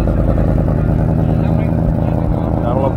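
A classic car's engine growls and revs at an outdoor car show, a steady low rumble with mechanical clatter running throughout, close and loud, with crowd chatter mixed underneath.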